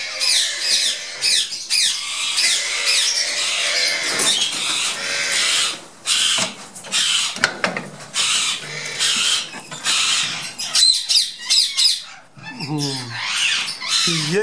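Breeding pair of ringneck or grey parrots squawking loudly and repeatedly close by, harsh screeches overlapping in a busy aviary, with someone talking underneath.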